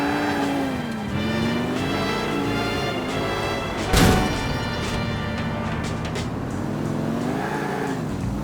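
A car driven in the video game Grand Theft Auto IV, its engine droning and rising and falling in pitch throughout, with a sharp impact about halfway through before the motor carries on.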